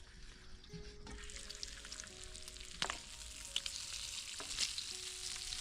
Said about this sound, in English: We are cooking some bacon.